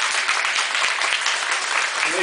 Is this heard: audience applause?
yes